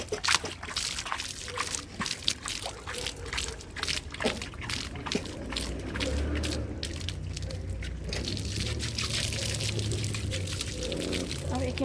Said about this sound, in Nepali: यसरी पानी हाल्नुपर्छ धनियाँ छरेर चाहिँ मल हालेर धनियाँ छरेर